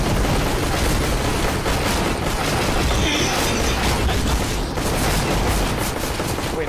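Dense, continuous automatic gunfire in CS:GO, likely a Negev machine gun, roars loud and unbroken throughout with overlapping shots and mechanical clatter.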